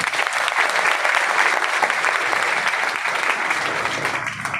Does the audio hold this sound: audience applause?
yes